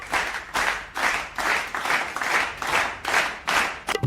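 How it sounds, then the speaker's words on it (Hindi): In a comedy sketch set in a school, a group claps in unison with a slow, regular rhythm, about two claps per second, each one a loud, close, sustained burst of hands. The pattern breaks off abruptly at the end. "ताली बजाते हैं ये।"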